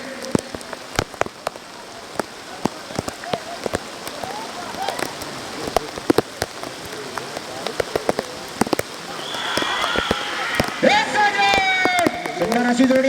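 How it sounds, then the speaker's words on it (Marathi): Heavy rain falling during a mud ploughing race with bulls in Malghar, steady dense patter with sharp drop impacts, while a commentator talks and a crowd shouts louder toward the end. "पाणी वाढत चाललंय पाऊस वाढत चाललाय"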